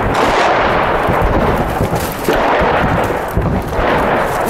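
Rocket shelling and gunfire close to the camera in Barzeh, Damascus, in 2013: loud, dense bursts of shots and heavy blasts rolling on continuously, harsh and near.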